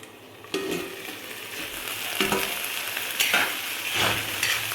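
Spices sizzle and crackle steadily in hot oil for a tadka, with bursts of stirring scraping against the pan, close up and without talk.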